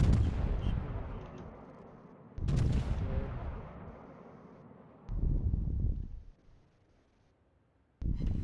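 Battleship main guns firing in World of Warships: four heavy, booming salvos a few seconds apart, each a loud blast trailing off into a long rumbling decay, with no talk over them.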